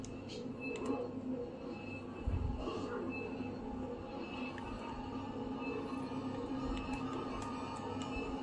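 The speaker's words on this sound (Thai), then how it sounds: "รถไฟอยู่ท้ายขบวนไปนะครับ" A train in the video game Resident Evil 4 rumbles steadily with low mechanical drone and faint squeals, plus a brief heavier clunk partway through.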